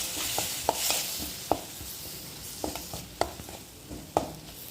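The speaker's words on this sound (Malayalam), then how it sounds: "മല്ലിപ്പൊടി, മസാലപ്പൊടി, മുളക് പൊടി, മഞ്ഞൾപ്പൊടി എല്ലാം കൂടി ഉള്ളത് ചേർത്ത് ലേശം പച്ചവെള്ളം കൂടി ഒഴിച്ച് മുരിച്ച് ബ്രൗൺ കളറാക്കും" Onions fry with coriander, masala, chilli and turmeric powders and a splash of water for a coconut-milk chicken curry, giving a steady soft sizzle broken by sharp spoon clinks and scrapes against the pan.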